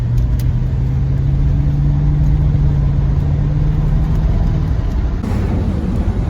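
A 1980s C4 Corvette pulls away with a steady engine note that rises as it accelerates, close and loud, with a continuous drone throughout and a shift in tone near the end.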